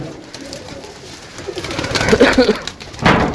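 Rooftop flock of high-flying pigeons cooing, low throaty coos building and clustering toward the end, fairly loud and close amid open-air background noise.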